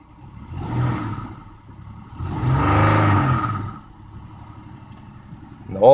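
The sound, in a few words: junkyard Dodge Charger car engine running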